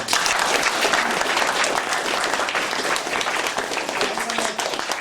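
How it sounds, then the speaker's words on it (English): Loud, dense round of applause from an audience at a scoraíocht, an Irish evening of song and storytelling in Kealkill, sustained and close throughout. "Give a round of applause now."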